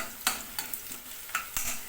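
Onions frying in a pan for a katla fish curry, a close, steady crackling sizzle punctuated by several sharp scraping stirs, with no voices.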